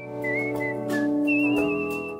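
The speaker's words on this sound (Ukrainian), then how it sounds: "Ми шукаємо людей, які красиво і мелодійно свистять." A competitive artistic whistler carries a clear melody with sustained, sliding pitched notes, close and loud with no talk.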